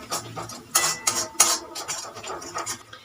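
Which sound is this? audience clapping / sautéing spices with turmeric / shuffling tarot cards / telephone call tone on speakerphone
sautéing spices with turmeric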